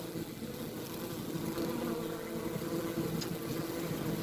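A dense, continuous low buzzing hum of roughly 150,000 honeybees, recorded from inside the hive, fills the space, close and steady without pause.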